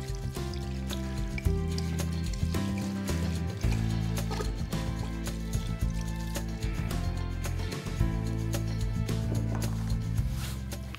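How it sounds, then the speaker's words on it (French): A whole bottle of Riesling wine pours steadily over raw meat for baeckeoffe, a continuous close liquid gurgle and splash lasting several seconds, with no speech over it. "Et on verse le Riesling."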